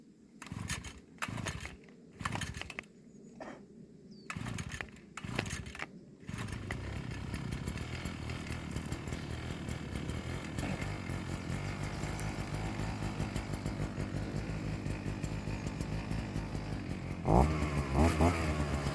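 A string-trimmer brush cutter is pull-started with several short bursts, then catches and runs steadily at a loud, close idle before revving up near the end, clearing a small mountain plot.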